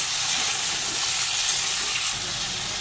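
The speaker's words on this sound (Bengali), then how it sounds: "এবার সবজি এখানে 3-4 মিনিট মতন একটু ভেজে নেব" Mixed vegetables for a spinach curry fry in a pan with an even, loud, continuous sizzle and hiss close by, with little variation and no talking.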